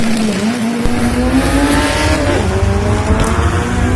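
Drag race cars, including a purple 1995 Honda Civic, launch at a Bradenton motorsports drag strip, with a loud, sustained engine roar climbing steadily in pitch close by and no break in the noise.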